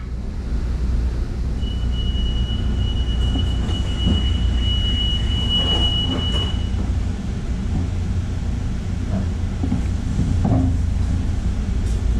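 A Miami metro train departs, rumbling steadily along the tracks close by, with a thin high wheel squeal for a few seconds partway through.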